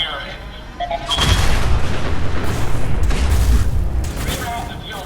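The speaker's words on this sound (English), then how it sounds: "Gotta watch out for all those explosions." Explosions and booming blasts in the video game Fallout 4, a sustained run of loud, rumbling detonations mixed with gunfire-like bursts that builds after the first second and carries on to the end.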